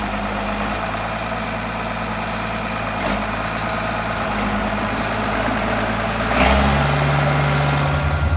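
Tractor engine idling and working with a grader blade during snow plowing, a steady low rumble that rises in power near the end as the load builds, with no one speaking.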